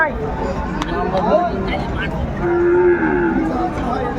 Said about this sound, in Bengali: এখানে বেশ সুন্দর একটি সার গরু আমরা দেখছিলাম